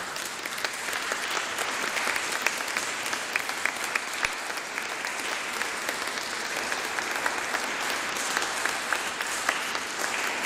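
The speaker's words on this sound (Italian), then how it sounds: "facciamo un ulteriore, diciamo, applauso" Steady audience applause at an Italian concert event honoring a double bassist and a maestro, continuous dense clapping filling the room throughout without pause.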